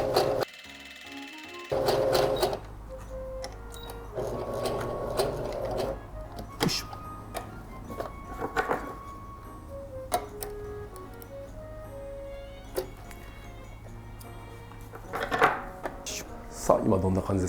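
Domestic sewing machine stitching a homemade fabric mask in quick bursts of rapid ticking, stopping and starting with clacks and handling knocks between runs.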